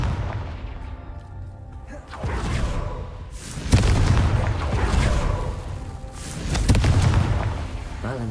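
Confringo blasting spell from Hogwarts Legacy going off in a string of heavy booming explosions, three big blasts with rumbling tails over a continuous roar of game effects.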